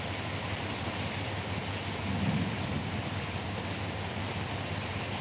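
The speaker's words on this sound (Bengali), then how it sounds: "হ্যাঁ, বৃষ্টি পড় রही है।" Steady rain falling outdoors, a dense continuous hiss of even loudness throughout with no voices.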